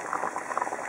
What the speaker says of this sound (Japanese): 水から火にかけて沸騰してから15分経ったものですね